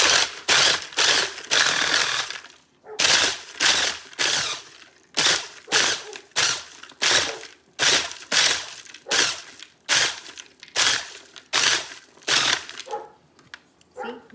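A handheld hand blender chops bread into homemade breadcrumbs in loud, close, gritty bursts, pulsing on and off in a rapid, irregular rhythm with brief pauses between.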